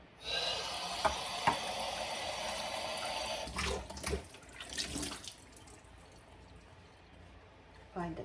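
Kitchen tap water runs steadily into a sink while dishes are washed, with clinks and splashes, a pause near the end, and a voice heard in the background.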